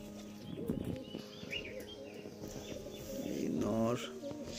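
Giribaz pigeons of the Murshidabad line coo in soft, throaty, repeated calls close by, with a voice talking faintly in the background.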